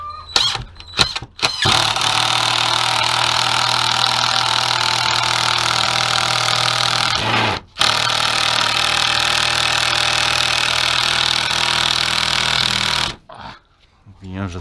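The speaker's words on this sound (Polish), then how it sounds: "Moja wkrętareczka." A cordless drill driver drives screws into old, partly rotten wood, giving a loud, sustained close whir that starts after a few short bursts, briefly cuts out midway and stops near the end.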